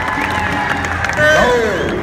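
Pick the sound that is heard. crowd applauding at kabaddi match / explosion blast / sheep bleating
crowd applauding at kabaddi match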